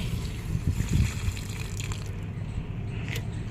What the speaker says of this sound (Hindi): तो ये मैंने डाल दिया है इसमें पानी।